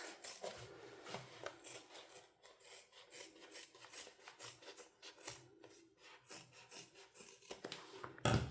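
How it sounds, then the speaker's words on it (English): Scissors trimming down a fabric seam allowance while sewing a bag, a close, quiet series of rough snipping and rubbing cuts in an uneven rhythm, with no talking. "So again I'm going to trim down the seam allowance just by about half."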